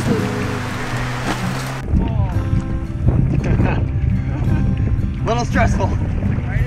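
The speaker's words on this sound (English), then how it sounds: "A little too windy here." Wind gusts buffet the microphone while brothers paddle a canoe in the Boundary Waters Canoe Area, a broad rushing roar in the first two seconds that drops away, followed by voices talking over lighter wind noise.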